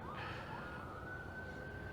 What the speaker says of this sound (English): There's an ambulance going by if you're hearing all of that.